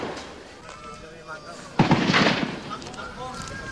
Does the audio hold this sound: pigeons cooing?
no